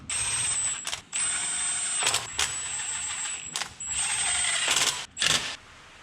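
A ratchet snugs down the bracket bolts during water pump replacement on a Dodge Ram 3.9 or 5.9 engine, in several close, whirring, clicking bursts separated by brief pauses, with no talking.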